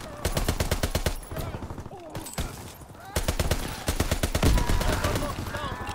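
A weirdly designed new automatic gun from Call of Duty WWII firing in rapid, evenly spaced bursts, loud and close, broken by short pauses, with faint battle sounds between the strings of shots.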